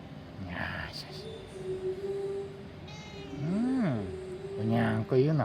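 A fluffy tortoiseshell cat at a car repair shop gives two drawn-out meows toward the end, close and clear, with a person speaking softly around them.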